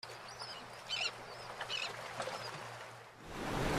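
Faint bird chirps and calls over a soft wash of moving water, with a steady low hum underneath and rising rush of water at the end.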